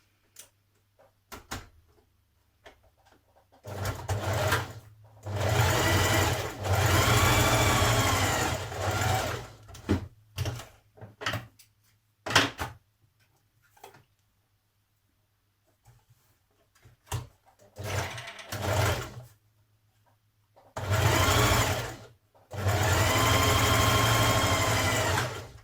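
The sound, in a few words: sewing machine stitching blouse shoulder seam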